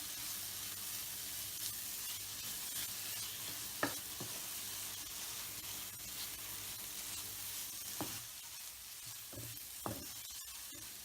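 Tomatoes cook down in a pan for a beef and raw banana curry, sizzling softly and steadily, with a few sharp scrapes and clacks of a spoon stirring them now and then.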